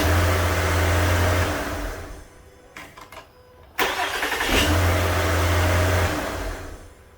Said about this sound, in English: you guys can listen in here to that starter now